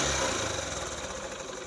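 A 2018 Honda CB Shine 125cc BS4 motorcycle with a timing chain noise idles at a quiet, even tick, its low engine rumble strongest at the start and easing slightly.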